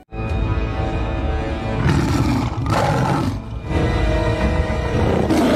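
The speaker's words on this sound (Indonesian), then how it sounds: "Sekarang harimau itu ada di hadapan Gapin." Tiger in a film roaring loudly and close, several long, rough growling roars following one another with brief pauses between them.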